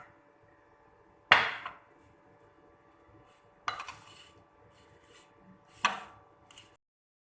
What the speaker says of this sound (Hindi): इसको मिक्स करेंगे